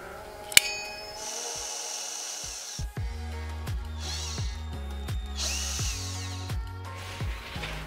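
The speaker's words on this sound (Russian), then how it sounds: "Сверлим отверстие." A power drill whines through a metal fishing lure in stop-start bursts, with stepped pitch changes as the motor speeds and slows, close and steady.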